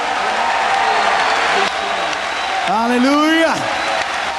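A church congregation claps steadily in a broad wash of applause during an evening service, and a voice shouts out a short exclamation partway through.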